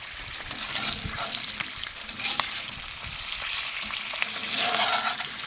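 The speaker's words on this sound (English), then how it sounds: "when I heat the cast iron Dutch oven for the bread, hear that sizzle" Vegetable oil crackles and sizzles steadily in a hot cast iron Dutch oven over charcoal, a bright continuous spitting with occasional louder pops.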